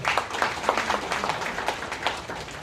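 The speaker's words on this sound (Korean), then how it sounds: "박수 한번 부탁드립니다." Audience applause fills a lecture hall at the end of a Korean talk, a dense, steady patter of many hands clapping at moderate volume with no voices over it.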